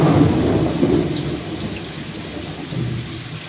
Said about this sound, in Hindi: बाहर में बहुत तेज़ बारिश हो रही है